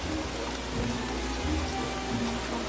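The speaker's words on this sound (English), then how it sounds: "And now it's raining!" Steady rain in the video game Don't Starve, a soft continuous hiss with faint patter, fairly quiet and with no talking.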